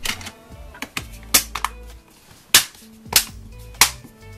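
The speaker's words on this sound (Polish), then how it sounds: "Tylna obudowa wskakuje z wyraźnym kliknięciem." The back cover of a Homtom S99 phone is pressed onto the body around its edges, giving a series of sharp, separate plastic clicks at uneven intervals.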